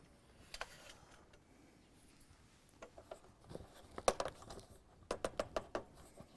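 A light stand is moved closer and raised higher, making a series of faint scrapes, clicks and knocks that grow into sharper taps toward the end, with no speech in between.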